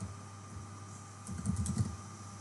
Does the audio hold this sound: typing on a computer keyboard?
yes